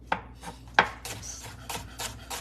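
A knife chops ginger into small pieces on a cutting board, a series of crisp, close thwacks at an uneven pace, with two sharp early strikes followed by quicker, lighter cuts.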